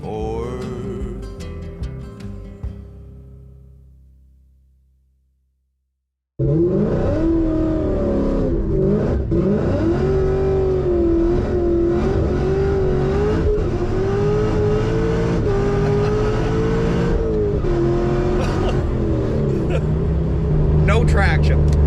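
A Ford SVT Cobra Terminator accelerates hard and loses traction, its engine roaring loud and sustained with shifting pitch after a stretch of music fades out.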